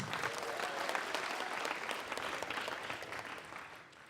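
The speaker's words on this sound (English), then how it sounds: "Please, a round of applause to the two teams." Audience applause for two debate teams at a technical school debate, a steady dense clapping that holds loud for about four seconds and thins slightly at the end.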